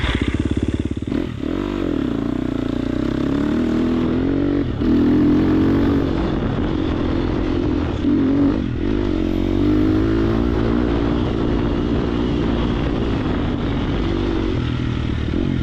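A Triumph TF250X motocross motorcycle being ridden, its engine droning loud and close with shifting pitch as the rider accelerates and eases off, continuous throughout.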